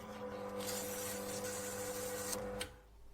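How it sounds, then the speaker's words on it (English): Emery cloth is rubbed steadily against a machine part prepared for friction testing, making a continuous close abrasive hiss over a steady mechanical hum, ending in a brief scrape and then a drop to quieter hum. "We use the emery cloth."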